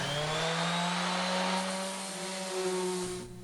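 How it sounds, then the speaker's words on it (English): Wood sanding on a small wooden nightstand with 100 grit sandpaper: a steady, loud, close motor whine with a broad abrasive hiss, running continuously without pause. "we can get ready to sand with our 100 grit sandpaper."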